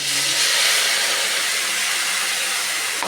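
Ground ginger, onion, tomato and green chilli paste sizzles in a hot pan for green jackfruit ghonto, a loud, steady, close hiss that runs unbroken with no voices.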